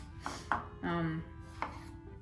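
Green onion chopped with a knife on a board, a few separate close thuds spaced irregularly, with a brief scraping rub in between and a quiet room behind.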